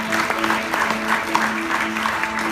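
A church congregation applauds the worship team, with steady, moderately loud clapping over a sustained musical tone and some crowd murmur underneath.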